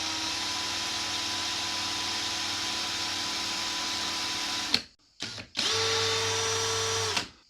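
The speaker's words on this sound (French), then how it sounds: "On la met sur la visseuse. On fait tourner à pleine vitesse." A cordless drill driver spins at full speed with a steady high whine, stops briefly, blips once, then spins up again at full speed before winding down.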